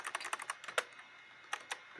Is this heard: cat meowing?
no